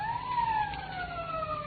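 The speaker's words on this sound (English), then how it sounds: "Police siren." A police siren sound effect in a radio drama wails steadily with a smoothly falling tone, moderately loud and alone.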